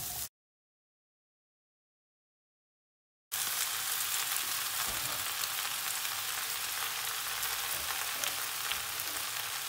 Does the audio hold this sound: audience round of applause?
no